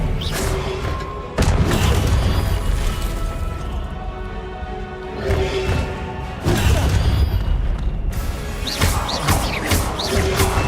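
Spell blasts from Hogwarts Legacy gameplay crash and boom in loud, dense bursts. Several sharp impacts are layered over a constant roaring game soundscape.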